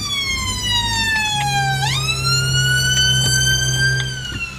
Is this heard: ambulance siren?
yes